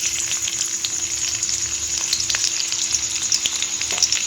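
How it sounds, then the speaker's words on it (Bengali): Onions frying in hot oil until brown, a dense, steady crackling sizzle heard up close and continuously, with scattered sharper pops and no talking. "এর মধ্যে আমি একটু পেঁয়াজ বেরেস্তা করে নেব।"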